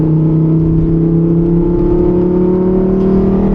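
A Lamborghini Huracan Evo Spyder engine roars loud and steady with its exhaust valves open, a deep sustained drone that stays close and holds level throughout, with no voices.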